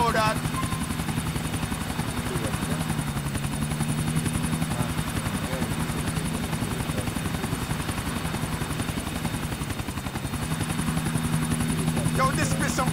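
A helicopter flies in Grand Theft Auto 4, its rotor beating in a loud, continuous rapid chop over the whole stretch while game characters talk on top of it.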